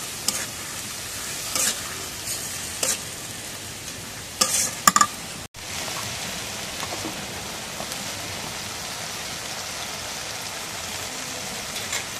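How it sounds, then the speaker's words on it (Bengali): Spice masala sizzles steadily as it fries in a pan, with scattered scrapes and clinks of stirring and a brief break midway before the hiss resumes, close and continuous. "এখন মশলা কষানো হয়ে গেছে"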